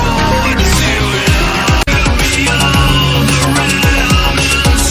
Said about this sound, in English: nothing sounds as good as that hi-hat